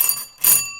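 A doorbell rings twice in quick succession at a house door, two short bright metallic rings close by with a brief gap between them, no voices over it.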